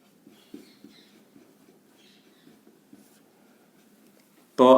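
A pen writes out a geometry proof in a math lesson with faint, close scratching strokes in short bursts. A loud burst of sound cuts in at the very end.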